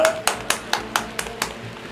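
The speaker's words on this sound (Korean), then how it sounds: "오늘의 시상을 맡아주신 KT 마케팅 부문장 이필재 부사장님 뜨거운 박수 모시겠습니다." Sparse claps, about eight evenly spaced, from an audience at the ASL Season 6 StarCraft esports final, sounding thin and slightly distant rather than a full ovation.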